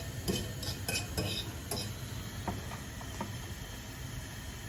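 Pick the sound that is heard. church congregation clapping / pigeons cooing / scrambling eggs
scrambling eggs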